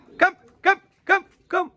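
Four evenly spaced barks from a single dog, fairly close and clear, with near silence between them.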